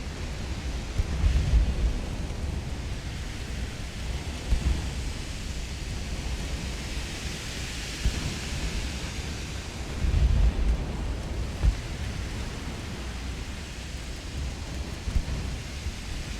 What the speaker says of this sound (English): I think it's raining in their local weather of this torpedo boat.